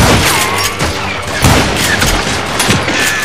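Dense, rapid gunfire in Call of Juarez: Gunslinger on PS3, with overlapping shots and booming reports cracking in a loud, continuous barrage.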